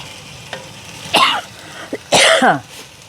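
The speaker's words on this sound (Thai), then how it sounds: "stir a little bit" Red curry paste sizzles quietly in a pan as it is stirred, a low steady frying hiss interrupted by a few loud nearby coughs and throat-clearing bursts.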